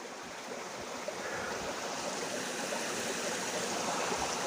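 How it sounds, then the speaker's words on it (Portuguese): Water flowing out from under a rock near ruins at Iguape, a steady, close rushing stream sound that holds even and continuous throughout, with no voices. "E ali sai, a água sai dali"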